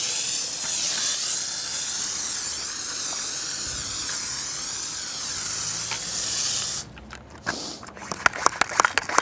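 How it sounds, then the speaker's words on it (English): A spray bottle of car detailer gives a long, steady hiss of liquid spray for several seconds, then a run of short, sharp spritzes in quick succession. "John Bellew calls these a dickhead spray"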